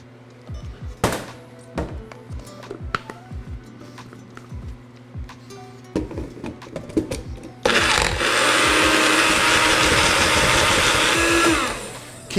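A kitchen blender whirs loudly and steadily for several seconds, blending a jalapeno, cilantro and almond crust mixture with olive oil. Scattered clicks and knocks of handling come first, then the motor starts abruptly and runs alone near the end.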